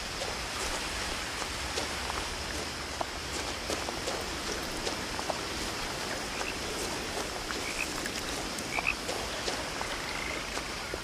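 Rain in the What Remains of Edith Finch video game, a constant dense patter with scattered drops near a river, mixed with steady frog croaking and occasional chirps, with no talk over it.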